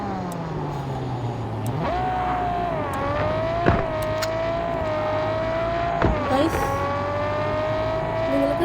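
A Toyota Supra drives in a video game, its engine a steady, sustained drone that rises in pitch as it revs, with a few sharp clicks and bumps over the top.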